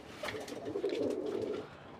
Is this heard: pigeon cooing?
yes